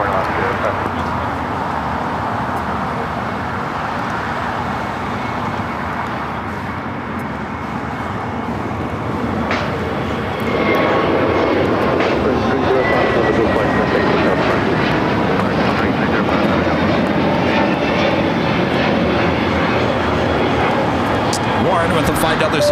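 An Alaska Airlines jet lands on runway 25 left at LAX, a steady broad engine roar that grows louder and fuller midway, with radio and voice chatter over it.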